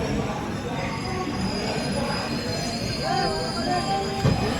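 The Simhapuri SF Express departs Khammam station, its wheels squealing and grinding over a steady rolling rumble, with a brief curved screech partway through and a knock near the end.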